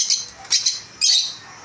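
African lovebirds giving sharp, loud squawks, three short bursts close by with brief pauses between them.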